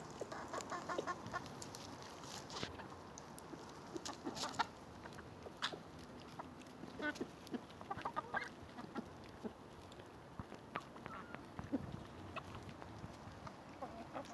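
Several chickens and a rooster cluck and squawk in short, irregular bursts, fairly close, with scattered sharper calls over a quiet farmyard background.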